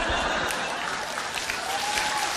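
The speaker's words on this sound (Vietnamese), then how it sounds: "tôi thấy các quý ông vỗ tay rất là lớn và cười rất là thích thú" Audience at a comedy stage show applauds steadily throughout, a dense continuous clatter of clapping with faint chuckles mixed in.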